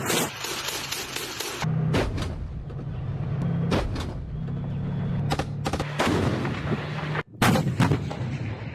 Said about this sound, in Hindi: रूस की थल सेना ने टैंकों का इस्तेमाल कर यूक्रेन के ठिकानों को उड़ा दिया है।